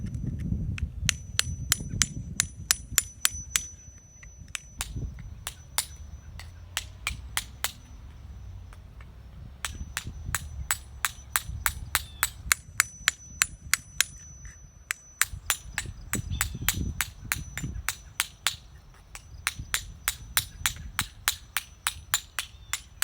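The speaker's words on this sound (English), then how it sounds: "Removing the excess mortar on this from 40 years ago." Forty-year-old excess mortar is hammered and chipped off a grave marker in sharp metallic strikes, arriving in rapid irregular runs with short pauses, close and clear over a low outdoor rumble.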